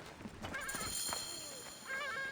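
A horse in Assassin's Creed Origins whinnies in a short, fairly loud neigh set against ambient game sound, with no talking.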